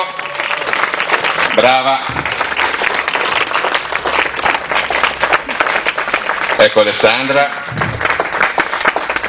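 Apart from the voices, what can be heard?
audience applause at a fashion show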